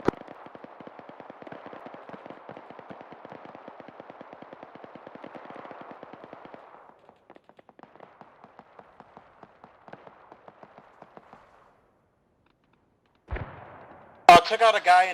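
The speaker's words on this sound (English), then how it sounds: "Watch out, whoever's shooting." Rapid bursts of gunfire from a multiplayer military video game mission, dense and steady for several seconds, then thinning to scattered single shots, a pause, and a sharp closing burst, with voices talking over it.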